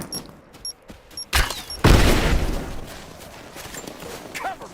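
Gunfire in the Rise of the Tomb Raider video game: a few faint shots and ticks, then a sharp crack and a loud boom that trails into a rumbling decay, with brief shouting.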